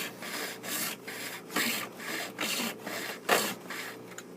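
Plastic piece being cut up against the edge of a workbench, a rhythmic series of close rasping strokes, roughly eight sawing passes with short gaps between them, no talk.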